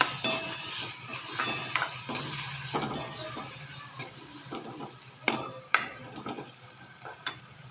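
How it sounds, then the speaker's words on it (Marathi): Spices being stir-fried in a pan for katval bhaji, with a spoon scraping and clinking against the pan in irregular strokes, a low sizzle underneath and a few sharper knocks, fairly quiet and close. "छान परतून घ्यायचे मसाले."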